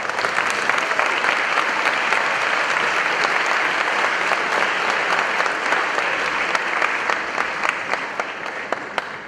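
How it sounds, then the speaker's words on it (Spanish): A large audience at an international keynote lecture gives a secretary general warm, dense applause, loud and even throughout and fading slightly in the final seconds. "Un aplauso para él"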